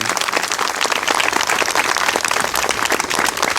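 Modest applause from a gathered crowd: a continuous wash of light clapping, even in level from start to finish, heard on its own without speech.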